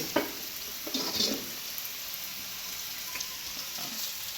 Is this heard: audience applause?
no